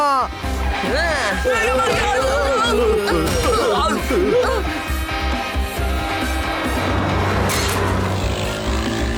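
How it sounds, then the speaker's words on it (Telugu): A bus in an animated cartoon races along at high speed, its engine a steady low roar beneath swooping, whistling sound effects and animated voices throughout. "ఇంత వేగంగా వెళ్తుంది బస్సు."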